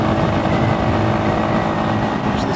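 A motorbike rides through a road tunnel, its engine droning loud and steady against heavy wind and reverberant road noise.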